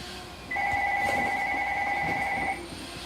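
A telephone rings indoors with a single sustained electronic warble lasting about two seconds, moderately loud over a quiet room background, with no one speaking.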